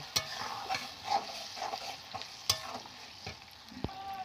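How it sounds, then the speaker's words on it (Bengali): Mustard paste being stirred into a frying tomato masala in a pan, a soft continuous sizzle with scraping spoon strokes and a few sharp clicks against the metal, close and fairly quiet. "এবার আমি সব শেষে দেবো সর্ষে বাটা দিয়ে আরেকটু খুব ভালো করে আমি মিশিয়ে নেব"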